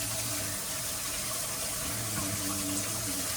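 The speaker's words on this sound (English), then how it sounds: "I'm going to go wash my hands." Tap water runs steadily into a kitchen sink as hands are washed, a continuous close splashing rush with no talk over it.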